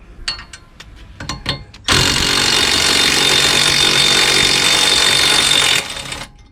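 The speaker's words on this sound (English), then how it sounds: "So that's the retaining screw for the disc, and our impact driver done the trick." A battery impact driver works loose the retaining screw on a Range Rover Evoque rear brake disc. A few sharp clicks and taps come first, then a loud, sustained rattling hammer burst of about four seconds that stops abruptly.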